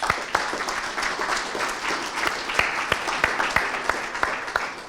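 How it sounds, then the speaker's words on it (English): Applause from the crowd at a sports awards and recognition ceremony, a continuous bed of clapping with distinct louder nearby claps standing out at an uneven rhythm, no speech on top. "So give yourself a big round of applause."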